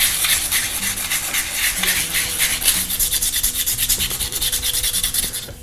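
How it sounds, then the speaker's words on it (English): Wet and dry sandpaper rubbing over a sculpture to shape and smooth it, a close, steady rasping scrape in repeated back-and-forth strokes throughout, with faint low tones in the background. "This is a wet and dry now. Okay. Now you start rubbing it in, shaping it, smoothing it out."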